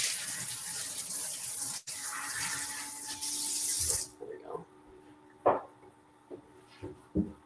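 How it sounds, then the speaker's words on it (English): Tap water runs in a steady hiss as a strainer is rinsed beneath it, then the flow stops and a few scattered clinks and handling knocks follow. "Let me just rinse this strainer again because I used it to rinse the starchy rice"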